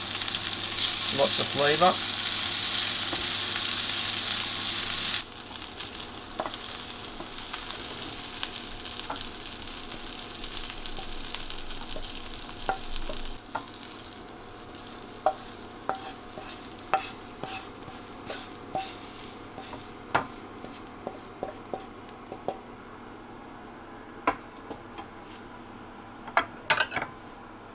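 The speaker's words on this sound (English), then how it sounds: "we're going to add a touch of sesame oil in there" Food fries in a pan with a touch of sesame oil, a loud continuous sizzle that thins out later into scattered clinks and stirring taps against the pan, with a brief spoken remark.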